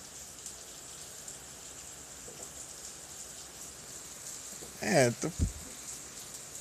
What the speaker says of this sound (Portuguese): Chovendo pra caramba.